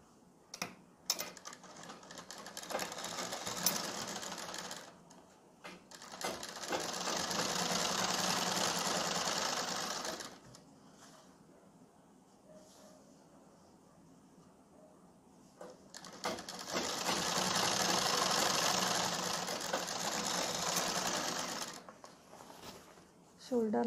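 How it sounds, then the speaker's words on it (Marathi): Sewing machine stitching a double seam on the shoulders of a kalidar kurta, running in two long bursts of steady whirring with a quiet pause between them. "शोल्डरला डबल स्टिच करून घेऊ।"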